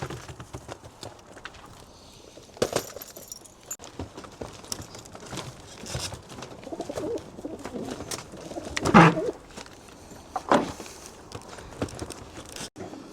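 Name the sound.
racing pigeons cooing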